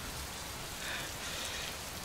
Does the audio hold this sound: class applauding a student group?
no